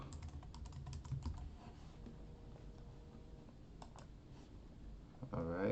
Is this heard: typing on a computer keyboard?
yes